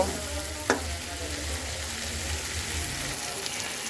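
Spices sauté with potato and cauliflower in a pan for a curry, producing a continuous, even sizzle with one brief scrape of a spoon early on, close and without talk.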